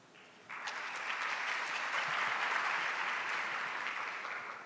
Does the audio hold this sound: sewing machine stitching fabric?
no